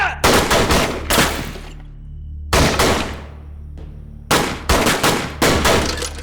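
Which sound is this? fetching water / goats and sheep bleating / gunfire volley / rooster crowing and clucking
gunfire volley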